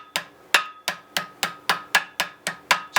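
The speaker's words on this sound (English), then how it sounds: "I use the peening end to peen over the rivet" A hammer's peening end taps over a rivet set in firehose canvas: about ten sharp, evenly spaced metallic strikes in quick rhythm, close and clear with nothing else around them.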